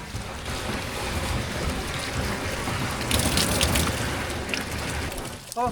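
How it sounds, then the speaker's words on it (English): Stream water splashes and gushes steadily as it is poured into a water tank at a rural plum orchard in hot summer weather, a continuous close rushing wash that swells louder midway. "so we decided to fetch water from a nearby stream, pouring it into the water tank so we could keep working"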